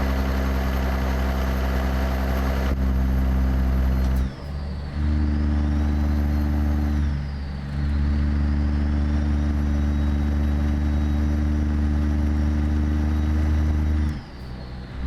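Simulated truck engine from American Truck Simulator, a Calico Creek Ruda glider hauling a Remtec tanker, droning steadily with a deep low rumble, dipping briefly twice as the throttle eases before settling back to a constant hum.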